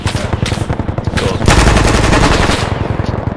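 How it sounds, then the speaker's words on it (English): Enemy gunfire in a military simulator game: loud, close automatic bursts rattle in rapid rhythmic volleys, swelling into a denser, heavier barrage halfway through. "we're taking close enemy fire from the west side right now"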